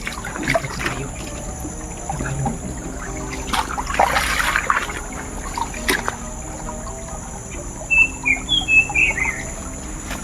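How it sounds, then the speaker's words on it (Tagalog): Several short bird calls in a quick cluster near the end, chirping over a steady background hum with a faint trickle of water earlier. "Ibon."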